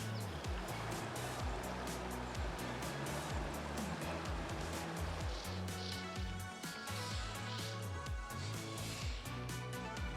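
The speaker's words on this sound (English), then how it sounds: "It's even right next to a stream, which is very nice and relaxing" A flowing stream runs beside a campsite in the Blue Mountains, a steady broadband rush of water that continues without a break, with a faint low hum in the background.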